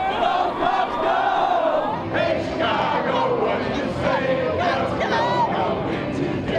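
Chicago Cubs fans roar as a dense crowd, cheering and shouting continuously at steady loudness, with voices rising in waves throughout.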